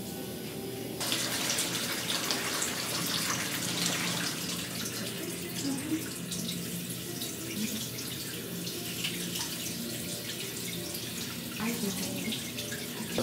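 Water pours steadily from a rinse spray over a client's face and scalp during a Korean head spa treatment for dry scalp, a continuous close rushing wash that runs unbroken from start to finish.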